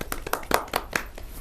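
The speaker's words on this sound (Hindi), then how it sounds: "आज तालियों के साथ स्वागत करते हैं" Audience applause welcoming a Hindi poet at a kavi sammelan poetry gathering, heard as a short, sparse burst of hand claps at close range with no talking over it.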